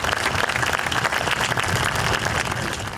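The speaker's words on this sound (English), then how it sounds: "Let's give him one more round of applause, please." An outdoor crowd at a 9/11 sunrise memorial ceremony in a town park applauds a keynote speaker, thick continuous clapping held at a steady level before easing slightly at the end.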